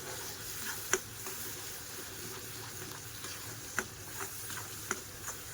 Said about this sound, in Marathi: धना जिरा पावडर, चांगलं तेल सुटेपर्यंत भाजून घेऊया.